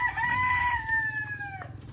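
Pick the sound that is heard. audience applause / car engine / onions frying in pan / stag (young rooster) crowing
stag (young rooster) crowing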